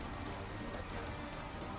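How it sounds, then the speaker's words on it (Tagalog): Rain falls outdoors as a dense, even hiss of drops on surfaces, steady and moderately faint throughout. "inabutan na tayo ng ng ulan"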